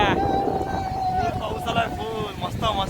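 Strong wind buffets loudly and continuously, roaring across the microphone while a person talks over it.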